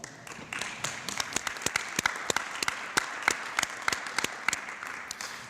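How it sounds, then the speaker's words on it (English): Applause from a small audience at a regional sustainability coalition meeting, a steady patter of many hands clapping with a few sharper individual claps, moderately close and lasting several seconds without speech. "I really think you deserve a round of applause"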